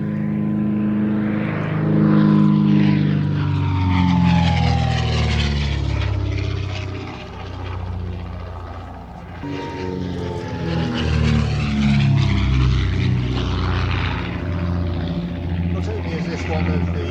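A historic vintage propeller aeroplane from the Shuttleworth collection drones overhead at an air show, its engine rising and falling as it passes, loud and sustained beneath a commentator's talk.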